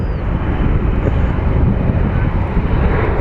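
A Boeing 737 airliner at Phoenix Sky Harbor airport gives off a steady broadband jet roar at middle distance, mixed with wind buffeting the microphone, with no voices.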